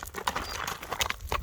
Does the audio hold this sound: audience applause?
no